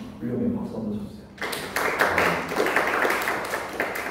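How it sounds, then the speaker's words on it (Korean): A church youth group gives a round of applause, a burst of clapping that starts abruptly after a brief stretch of talk and continues fairly loud and even to the end. "박수 한번 쳐주세요."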